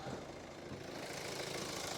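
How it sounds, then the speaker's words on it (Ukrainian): A Hyundai ix35 2.0 CRDi diesel engine idles steadily without change, a low rumble with a broad hiss over it and no voices. "як працює наш двигун, що він працює рівненько, що він працює чистенько"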